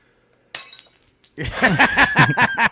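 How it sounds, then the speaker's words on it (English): Glass shatters with a sudden crash, followed by a loud, rhythmic burst of music or singing that drowns out the scatter of fragments. "It broke a glass after it stopped."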